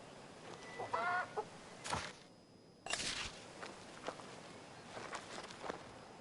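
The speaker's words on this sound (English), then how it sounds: "Is that your chick cheeping in that barrel?" Clucking and cheeping from a green chick in a barrel in the video game King's Bounty II, faint bird calls and scratchy rustles mixed with footstep-like thumps and brief game sound effects, no speech.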